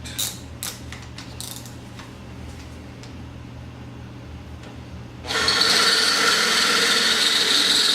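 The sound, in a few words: drilling with a drill bit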